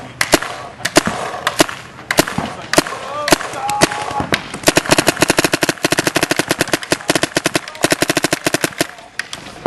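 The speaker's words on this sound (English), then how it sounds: "the gun definitely shoots some paint" Azodin Blitz paintball gun firing paint in rapid bursts, sharp loud pops coming faster and denser toward the end, with a few scattered single shots early on.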